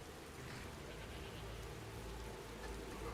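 Soft, steady patter of rain in the modded video game Skyrim, a faint continuous wash of drops with a low rumble beneath and no talk.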